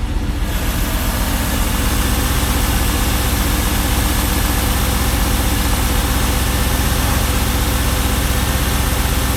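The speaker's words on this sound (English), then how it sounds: "Oh, it's a sweet sounding engine, isn't there?" A 1989 Range Rover Vogue SE engine idles steadily up close on a freezing day, a smooth low rumble with a fast, even pulse running unbroken throughout.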